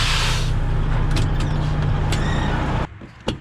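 A harvest truck's engine runs with a steady, loud, close low rumble, then cuts away sharply near the end, leaving a couple of brief knocks.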